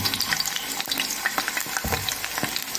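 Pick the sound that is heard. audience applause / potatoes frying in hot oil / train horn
potatoes frying in hot oil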